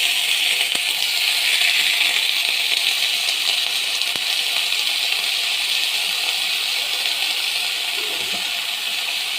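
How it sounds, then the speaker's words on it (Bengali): Salted eggplant (brinjal) fries lightly in a pan with a continuous bright sizzle, broken by a few faint clicks as it is stirred. "বেগুনটা আমি ভালো করে নেড়ে নেব, মানে হালকা হালকা একটু ভেজে নেব আর কি"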